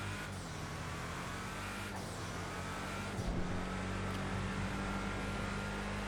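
Dominator GTT, a 1970 Mustang-style muscle car in GTA V Online, driving onto a freeway with a steady loud engine drone and road roar throughout, a brief rev shift midway, no talk.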